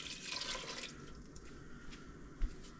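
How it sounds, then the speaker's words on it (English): Water pouring into a cooking pot for a double batch of clam chowder, a short, splashy rush that fades after about a second into a quieter trickle, with one small clunk near the end. "Then we dump in the 6 cups of water."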